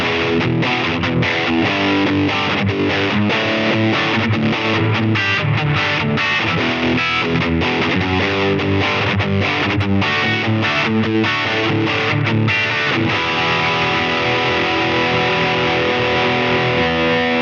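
Electric guitar, a CST 24 Deluxe HB with a flamed maple top, played through a distorted, effects-laden tone, with dense continuous chords and riffs ringing loud and steady throughout.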